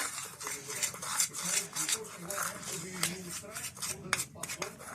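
A utensil stirs chicken fillet with black pepper in a bowl, giving quick repeated scraping and clinking close by, with a voice faintly present.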